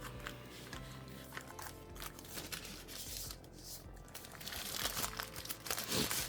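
Packaging crinkles and rustles continuously as a MelGeek MADE84Pro keyboard box is opened, with crunchy, irregular plastic and paper noise close up that grows slightly louder toward the end.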